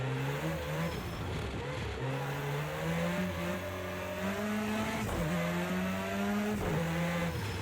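An Audi S1 EKS RX rallycross car in the Project Cars 2 game accelerates hard around Bathurst, its engine note loud and close, climbing through gears with several shifts and brief lifts, with a hint of tyre squeal.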